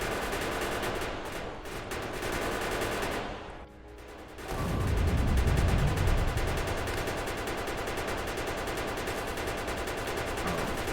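Rapid, continuous automatic gunfire from gun turrets shooting at biters in the Factorio video game, loud and sustained. A brief lull follows, then a heavy rumbling burst before the steady firing resumes.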